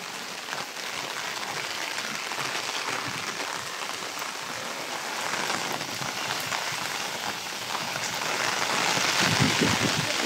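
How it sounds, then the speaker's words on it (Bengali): Heavy rain pours down in a village, a dense, unbroken hiss of drops drumming on surfaces that swells slightly louder toward the end, with no voices. "আমি ছাতা নিয়ে বাইরে বেরোচ্ছি বৃষ্টির মধ্যে।"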